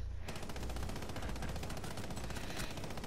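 Rapid automatic hip fire from a gun in the video game Rainbow Six Siege, a dense continuous stream of crackling shots at a fast steady rhythm, loud and close throughout with no talking.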